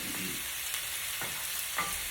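Chicken sizzles steadily in a hot pan on a stove over high heat, a continuous crackling hiss with a few brief stirring clatters, close and fairly loud with no voices.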